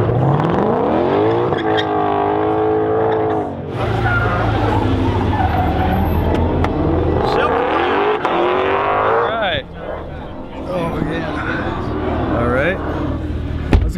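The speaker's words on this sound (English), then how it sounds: "I eventually found a parking lot set up for drifting and racing." Cars drifting and racing in a parking lot set up for an event with a C8 Corvette nearby, engines revving and wailing loudly and continuously with rising and falling pitch, tire squeal, and people talking over the noise throughout.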